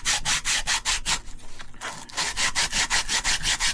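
Sandpaper is rubbed by hand on a 100-year-old carburetor being restored. Rapid back-and-forth strokes keep an even rhythm, briefly pause, then resume, close up with no talking.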